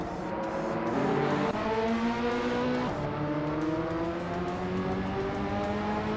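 A 1984 Audi Sport Quattro race car drives in a racing game, its engine a steady droning whine that climbs and drops through gear changes, continuous and fairly quiet with no talking.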